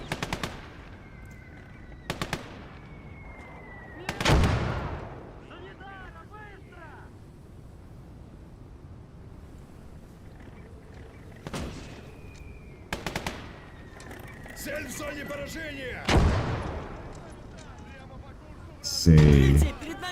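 Heavy gunfire in the WWII game Call to Arms - Gates of Hell: Ostfront, an anti-tank gun in action near Kerch: scattered loud blasts and bursts of machine-gun fire, some close and some distant, separated by quieter gaps of wind-like ambience.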